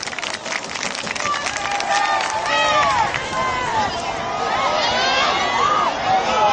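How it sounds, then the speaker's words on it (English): A sideline crowd at a Holton vs Lakeview Game 7 football game applauds and cheers the team, a steady wash of clapping and crowd noise with excited voices over it throughout. "Let's give a round of applause."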